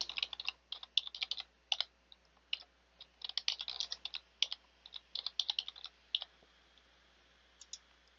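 A password typed on a computer keyboard, bursts of quick close key clicks separated by short pauses, thinning to a few isolated taps at the end, with no voices.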